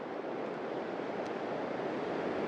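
Ocean waves surging over rocks on Traigh Bheag beach on the Isle of Harris, a steady, broad wash of surf with continuous wind rush and no distinct breaks.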